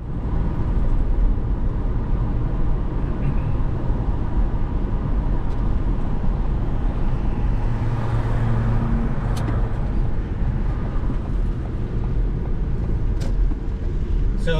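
A van on a test drive, with steady broadband road and engine rumble from inside the cabin, continuous and fairly loud throughout with no talking.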